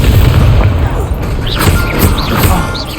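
Expelliarmus spell cast in the video game Hogwarts Legacy, a loud booming magical blast with crashing impacts and whooshing swirls layered over dense battle noise, with a voice speaking over it.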